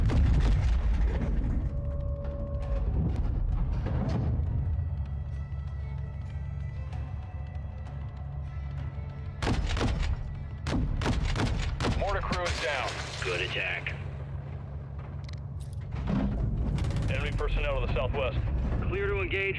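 Mortar fire and explosions in Modern Warfare 2 (2022) on PC rumble through a dense battle mix of booms and crackling gunfire, with radio voices talking over the action.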